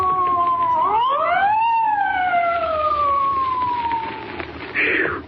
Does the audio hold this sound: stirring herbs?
no